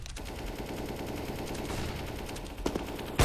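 Rapid automatic gunfire from the video game CS:GO, a continuous rattling burst with a louder shot near the end.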